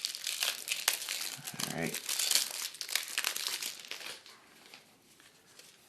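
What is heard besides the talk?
unwrapping Maracaibo board game card packs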